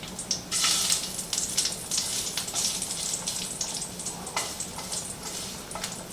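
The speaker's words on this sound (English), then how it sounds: "Now my oil's ready. I can hear it sizzling and popping." Hot cooking oil in a frying pan, heated after garlic for chicken penne al limone, sizzles steadily with scattered sharp pops at moderate loudness, with no one talking.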